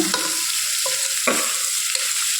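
Chopped ridge gourd with onions sizzling in a pan, loud close frying hiss broken by a few distinct scrapes and knocks of a spoon stirring, no voices.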